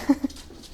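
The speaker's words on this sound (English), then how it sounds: "sorry about the dog blowing your ears out" A dog gives two short, loud barks close by near the start, then low household noise follows.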